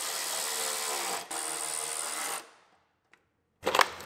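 A bracket for a junction box is bolted down in the engine bay of a cheap Grand Am under repair. A power tool whirs steadily for about two seconds with a brief dip, stops, and then a short clunk follows.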